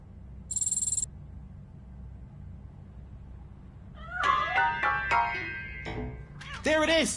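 A cat meows in the video game RoboCop: Rogue City, a few short, fairly loud mewing calls near the end after a brief high tone and quiet ambience. Speech-like voices are faintly present.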